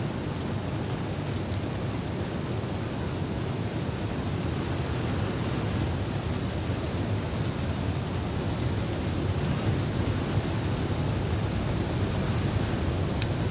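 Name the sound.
waterfall in the video game The Long Dark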